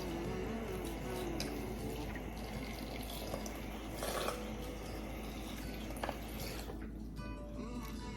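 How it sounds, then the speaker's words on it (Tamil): Tap water runs steadily into fruit juice at a kitchen sink, a continuous near splashing stream with faint outdoor wind underneath and no talk. "தண்ணி ஆட் பண்ணுறேன்."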